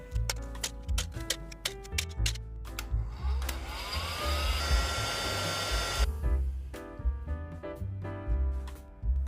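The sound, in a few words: heat gun heating plastic to bend it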